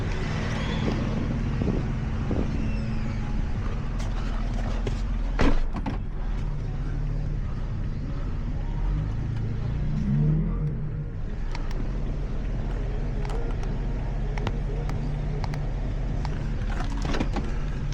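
A D.C. motor home stuck in sand at Daytona reverses with a steady low engine drone and rumble, heavy wind buffeting the microphone throughout, with a brief louder surge midway.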